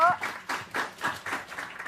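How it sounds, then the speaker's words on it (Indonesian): A small group claps hands in a marriage-preparation class session, a handful of uneven bursts at close range, with speech breaking in between them. "kita tepuk tangan dulu."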